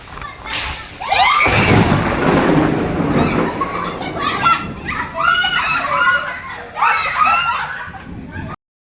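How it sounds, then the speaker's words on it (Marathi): A loud crack and rumble of thunder followed by rushing rain in a Konkan storm, with birds chirping and shrill calls over the downpour; a voice speaks briefly. "पावसाला सुरुवात होते बघा"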